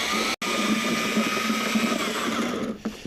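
A drill mixer churns self-leveling concrete at low speed, a steady whirring hum with a faint scraping texture that runs continuously, broken by one brief dropout near the start and easing off toward the end.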